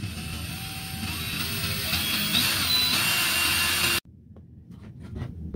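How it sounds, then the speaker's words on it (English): A power drill fitted with a 2-inch hole saw cuts through a thin plastic food-storage container lid, giving a steady close grinding whir for about four seconds before stopping abruptly into quiet handling noise. "And with the drill in forward motion, begin to drill."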